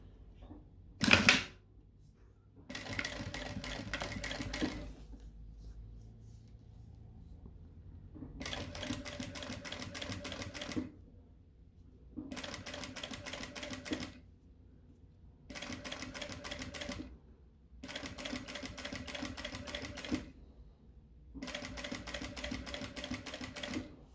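A sewing machine stitches a strap for a small backpack, running in steady bursts of several seconds with short pauses between them, close and moderately loud with no talking.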